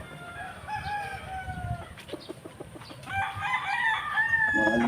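Game-farm fighting roosters crow repeatedly at close range, several birds overlapping with clucks between calls, loud and alone with no talk.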